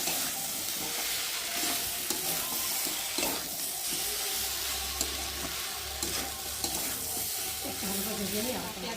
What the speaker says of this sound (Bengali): ভালো করে মশলাটা একটু ভালো করে ভেজে নেবো